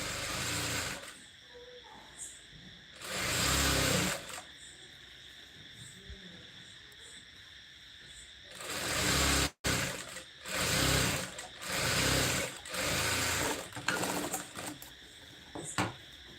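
A sewing machine stitches the sleeve seam of a size 34 blouse in loud bursts of several seconds each, separated by quieter pauses, with a short break near the middle.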